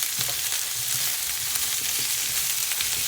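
Cauliflower florets frying in a pan, a continuous dense sizzle with stirring scrapes and small clatters, close and loud, no talking.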